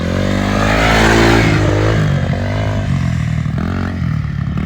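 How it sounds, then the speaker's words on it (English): A Yamaha Timberwolf 250 ATV engine runs loud and close in first gear, a rough steady drone that swells and dips slightly with throttle throughout. "This is the first time driving a 4-wheeler, but she's doing great."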